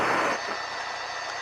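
A small training airplane's engine hums at low throttle while taxiing out, a steady muffled drone that starts with a brief louder rush and then settles into an even, moderate rumble.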